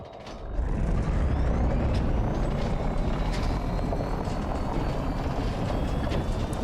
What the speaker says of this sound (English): Handbrake is on.